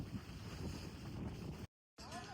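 Wind blows outdoors near a store, a continuous low rumble and buffeting against the microphone that cuts out completely for a moment before resuming.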